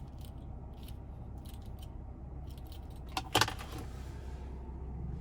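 Key fob for a 2017 BMW X5 M Sport handled with a brief metallic jangle and clicks near the middle, close and fairly faint over a steady low background hum.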